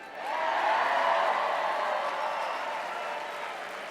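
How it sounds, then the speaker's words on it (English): At the Colorado Democrats' annual political dinner, a large audience claps in a sustained, full wash of applause that rises quickly and tapers slightly, with no speech over it. "give yourselves a round of applause"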